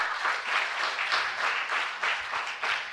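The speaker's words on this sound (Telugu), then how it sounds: "మనకు చక్కగా వివరించిన శర్మ గారికి మరొకసారి చప్పట్లు" An audience at an engineering college lecture event gives a steady round of applause, dense overlapping clapping that holds at an even loudness throughout.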